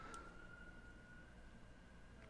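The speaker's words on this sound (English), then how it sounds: "a siren just went by my house." An emergency siren passes outside a house, faint and distant, a thin steady wail heard through a low background rumble with no talking.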